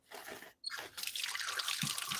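Big water drops fall outdoors at a backyard cooking spot in rainy weather, a few close, distinct drips and splats against a running wet trickle, fairly quiet and with no voices.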